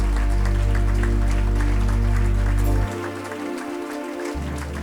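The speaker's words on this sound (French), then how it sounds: "Acclame, acclame, acclame le Seigneur, acclame" Steady applause from a church congregation, dense and continuous, with a loud low rumble that cuts out partway through while the clapping carries on.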